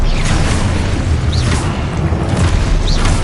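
Continuous loud, dense rumbling bursts of spell explosions and magical combat effects in the video game Hogwarts Legacy, with a couple of swooping whistles layered over the steady din.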